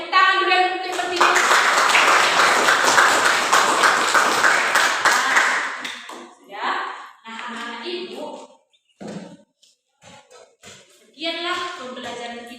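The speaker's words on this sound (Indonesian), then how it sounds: "Ayo tepuk tangan dulu yang untuk bertiga." Students in a classroom clap together for three classmates, a dense, loud burst of applause lasting about five seconds before it stops and a voice speaks.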